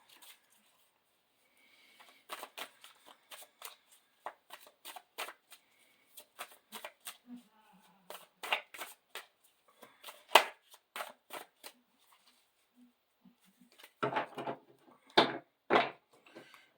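A deck of Mythic Tarot cards is shuffled in a quiet room, with bursts of riffling and soft slapping of cards repeating in irregular clusters, closer and louder near the end.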